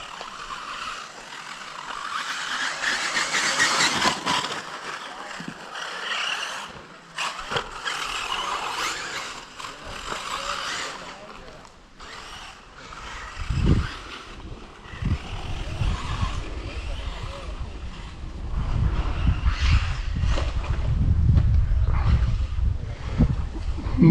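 An MYE2 radio-controlled model car whines and buzzes around a model club track in Monclar, fading in and out, with louder low rumbling later and faint voices nearby.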